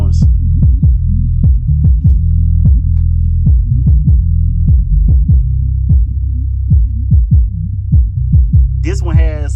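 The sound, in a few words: folded horn subwoofer playing bass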